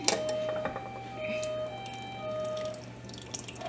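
Liquid pours from a can punched with two holes in a home kitchen while making fudge, giving a soft, uneven trickle and drip, faint and close, with no talk.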